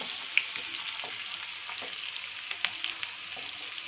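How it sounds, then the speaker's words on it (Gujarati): Sliced dry onions sizzle and fry steadily in a pan for a dhaba-style masala paneer dish, with occasional scraping clicks as they are stirred. The sound is close and continuous, with no talking. "ડુંગળીને આપણે થોડી ચલાવીશું."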